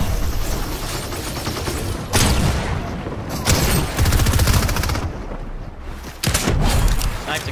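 Gunfire roars in a shooter video game: dense bursts of rapid automatic shots and heavy booming reports come in loud clusters separated by brief lulls, with a voice faintly underneath.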